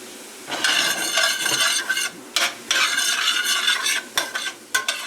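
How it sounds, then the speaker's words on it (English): Apple and leeks sizzle and scrape in a hot pan as they're stirred in short bursts, close up, with occasional clinks of utensil against metal. "We're just gonna saute these for a couple of minutes, soften up the apple and the leeks a bit."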